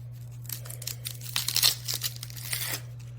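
Dry onion skin being peeled off by hand in a kitchen, a series of close crinkling, tearing rustles over a steady low electrical hum, with no talk.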